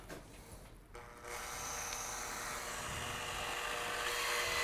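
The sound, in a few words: drilling into wood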